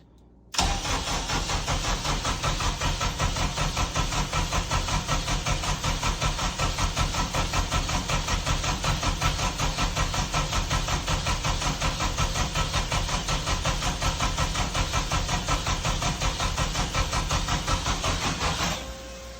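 A K-swapped Porsche 996 engine with its fuel injectors disconnected cranks continuously on the starter for about eighteen seconds, a steady rapid chugging whir close to the microphone that cuts off abruptly at the end.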